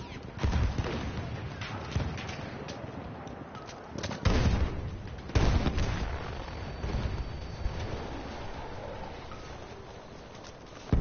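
Battlefield gunfire and explosions from the game Frontlines as a grenade is thrown, with loud booming bursts around the fourth and fifth seconds over continuous distant shooting and rumble.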